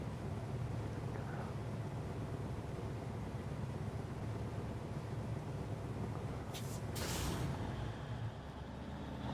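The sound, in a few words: truck air brake release in video game SnowRunner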